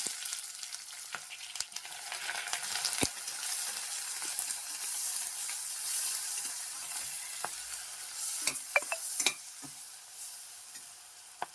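Chopped onions frying in a pan, an even hissing sizzle heard close, broken by a few sharp taps and scrapes from stirring, growing slightly quieter toward the end.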